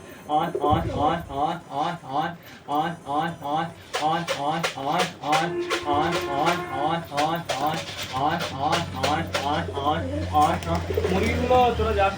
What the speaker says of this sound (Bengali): অনেক দিন পরে পায়রা বাড়িতে এসেছে